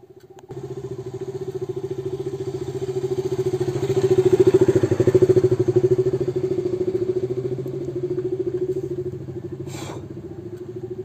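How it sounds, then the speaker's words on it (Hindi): A motorcycle engine hums steadily nearby in a jungle setting, swelling louder around the middle as it passes and then fading slightly, with no talk. "यहाँ पर एक बाइक गया तो मैं थोड़ा बहुत रुक गया"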